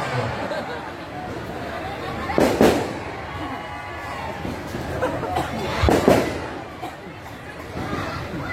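Firecrackers burst at a crowded religious gathering, two loud crackling volleys a few seconds apart over a steady murmur of crowd chatter and talk.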